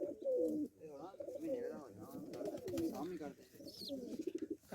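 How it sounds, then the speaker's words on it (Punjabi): Desi pigeons and their chicks in a village loft make low, warbling coos in close, overlapping bursts, with faint voices in the background. "ਆ ਬੱਚੇ ਹੈਗੇ ਆ ਦੇਸੀ ਕਬੂਤਰ ਦਾ।"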